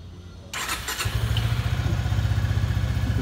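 A Suzuki Gixxer 250 ABS motorcycle from 2021 starts with a brief cranking whine, then catches and settles into a steady, loud, close idle with an even rapid pulse.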